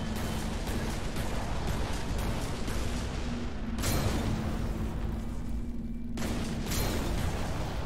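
Explosions destroy an outlaw base in the space shooter game Everspace 2, producing continuous loud, roaring blasts and rumbling with a few sharp bursts layered over a constant low drone.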